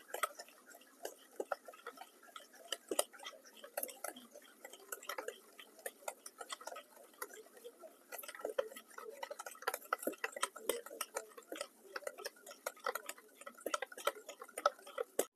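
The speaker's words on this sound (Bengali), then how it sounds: "দিয়ে ভালোভাবে তালের পাল্প, সাদা তেল ও চিনি ভালোভাবে ফেটিয়ে নেব।" Palm pulp, white oil and sugar whisked together in a bowl, a quiet rapid clicking and tapping of the whisk against the bowl in an uneven, continuous rhythm.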